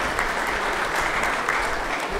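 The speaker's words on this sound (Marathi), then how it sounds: "टाळ्या वाजवू" An audience at a blood donation camp felicitation event claps steadily, a dense, even burst of applause from many hands throughout.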